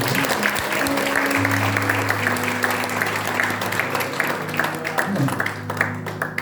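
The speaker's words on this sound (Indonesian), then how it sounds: "Beri tepuk tangan yang berlipat" Church congregation applauding during a sermon, a dense, loud, steady clatter of many hands lasting throughout, with sustained organ or keyboard tones and voices mixed underneath.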